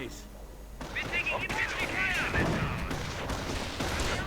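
In a World War II strategy video game, heavy machine gun fire and other battle noise rumble on steadily at moderate loudness, dense bursts and thuds layered under a voice talking.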